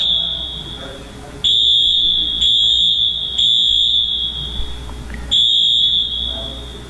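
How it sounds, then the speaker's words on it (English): A loud, shrill smoke alarm in a church, set off by steam, blares in long repeated beeps with short gaps between them; faint voices murmur in the background. "I'm sure the steam got the smoke detector."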